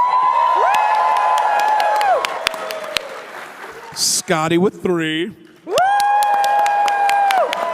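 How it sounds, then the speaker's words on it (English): A convention-stage audience at a nerd game show cheers and claps in bursts, whoops and shouts rising over an announcer's amplified voice, with a brief lull between two rounds of applause. "Such a difference of applause."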